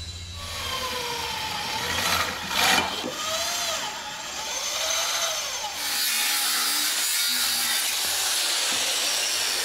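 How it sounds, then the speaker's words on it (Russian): Metalwork while fabricating a bracket for a Hanomag 44D loader under repair: steady, close rasping and sawing strokes with scraping friction, continuing without pause and no talking. "Изготавливаю наш кронштейн"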